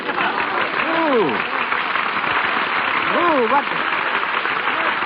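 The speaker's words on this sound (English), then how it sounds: "They're applauding you." An audience applauds continuously in an old radio drama, a dense, slightly distant clatter of clapping on a narrow-band broadcast recording, with brief voices speaking over it.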